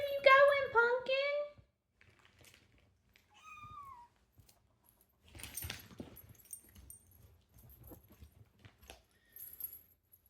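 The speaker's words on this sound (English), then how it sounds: "She thinks she's a shoulder cat." A pet cat gives a loud, close run of meows at the start, then quieter scattered chirps and small rustles and clicks follow in a calm indoor room.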